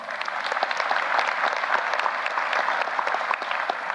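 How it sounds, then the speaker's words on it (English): Steady, moderately distant audience applause at a university investiture ceremony, sustained clapping from a crowd with no talk over it. "Let's give him a round of applause."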